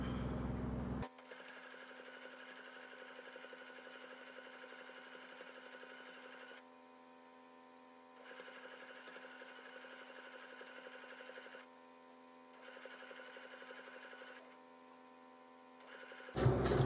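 A new Singer sewing machine stitches a bedroom pillow seam, its fast, even needle clatter running in long bursts separated by short pauses, close and steady with no voices.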